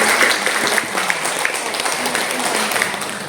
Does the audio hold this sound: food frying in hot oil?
no